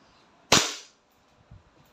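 An E&C Glock 19 Gen 5 airsoft pistol fires a single sharp, loud, close crack that decays quickly. A faint soft thump follows about a second later against near silence.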